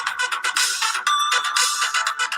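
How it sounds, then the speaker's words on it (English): A phone ringtone plays loud and close throughout, a bright, busy pattern of repeating tones with a steady pulse, heard alone with no talking. "Is that your phone?"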